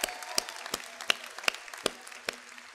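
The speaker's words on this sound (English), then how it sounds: "Let's give a round of applause for the most resilient class I have ever seen." Sparse clapping at a law school hooding ceremony for graduating JD students, a handful of sharp, separate claps spaced irregularly over a quiet room rather than a full ovation.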